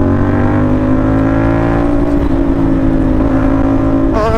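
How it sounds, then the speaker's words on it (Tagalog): A CFMoto NK450 motorcycle fitted with an SC Project copy exhaust idles and revs with a steady, loud, harmonic-rich exhaust drone that holds close and even throughout, alone without talk. "Pero so far gusto ko yung sounds niya, tong exhaust na to."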